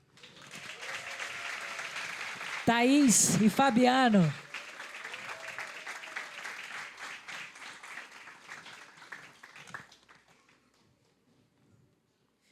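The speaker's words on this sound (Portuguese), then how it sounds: "vocês vão aplaudindo" Church congregation applauds couples from a ministry team as their names are called, clapping rising under a loud amplified voice announcing names, then continuing moderately and fading out toward the end.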